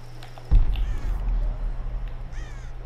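A bird calls in the coastal forest of the video game Tomb Raider, a sharp crow-like caw followed by a second, fainter call a moment later over a steady low ambient hum.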